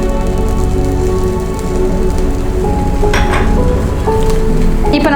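Keto coconut flour chapati cooks on a buttered pan with a steady, close crackling sizzle like light rain, plus a few faint clinks near the end.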